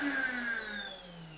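A Philips Performer Ultimate FC8955/09 bagged canister vacuum cleaner winding down after being switched off, its whining motor tones sliding steadily lower in pitch as the airflow fades, close and alone.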